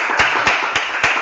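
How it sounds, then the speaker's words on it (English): Applause from a presentation audience for a playwright and actor at a senior showcase, with a few louder claps standing out from a steady, broad clatter of hands over a short span. "So let's give a round of applause for Jose and Italo"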